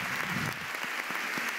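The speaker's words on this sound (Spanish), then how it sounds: "estamos cerrando esta conferencia con un aplauso" Audience applause closing a conference talk in Montevideo, a steady wash of many hands clapping at moderate loudness, continuous through the short stretch with no talk over it.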